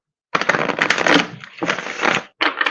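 Oracle cards shuffled by hand for a love reading, three close, crisp bursts of riffling and sliding cardstock separated by brief pauses, with no talk.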